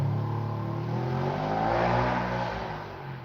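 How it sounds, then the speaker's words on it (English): A small wilderness car's engine drones loudly and steadily throughout, swelling slightly in the middle and easing toward the end, with no voices over it. "Their little wilderness car is awful. It's so loud."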